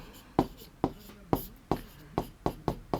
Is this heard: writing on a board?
yes